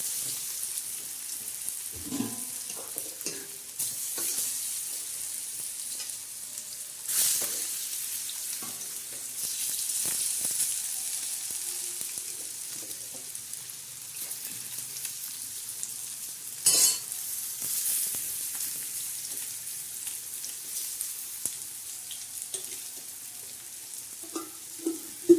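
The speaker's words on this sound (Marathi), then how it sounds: "हिरव्या मसाल्याच्या मस्त अशा छान अशा वड्या आपण कमी तेलाच्या तळत आहोत" Colocasia leaf vadi in green masala shallow-frying in a little oil make a soft continuous sizzling hiss, with scattered light taps and a few louder crackles.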